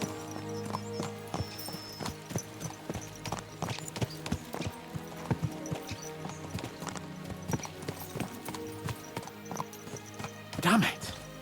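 Horses gallop in Kingdom Come: Deliverance 2, their hooves beating a fast, steady clip-clop on the ground, close and loud. A horse whinnies near the end, and a voice speaks over the hoofbeats.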